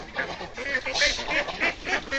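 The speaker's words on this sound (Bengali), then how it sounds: "এই যে হাঁসগুলা নামতাছে, দেখুন কত সুন্দর করে নামতাছে এরা" A small flock of village farm ducks goes down toward water in the evening, giving a run of nasal quacks and honking calls, close and fairly loud, repeating irregularly over a soft outdoor background.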